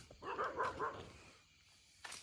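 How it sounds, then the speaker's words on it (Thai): A faint, distant dog in a forest at night gives a short drawn-out howl lasting under a second, followed by quiet with a brief noise burst at the end. "หมาเนี่ยหอน"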